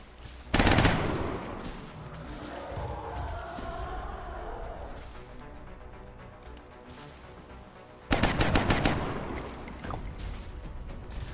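A soldier firing at enemies in the video game XCOM: Enemy Unknown: two loud bursts of rapid automatic gunfire, one near the start and one near the end, each trailing off into echo, with quieter game ambience between them.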